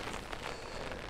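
Driving rain at Hardknott Pass makes a brief, faint, steady hiss with soft patters on nearby surfaces, with no voices.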